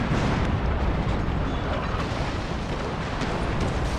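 Cannon fire from sailing warships in an Empire: Total War naval battle, a dense continuous roar of booming broadsides and rumbling blasts filling the whole stretch, loud and unbroken with no clear gaps.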